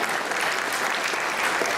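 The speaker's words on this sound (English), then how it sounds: "Another round of applause for our wonderful cultural performances." An audience at a unity dinner applauds a cultural performance, a steady dense wash of many hands clapping at close range with no gaps.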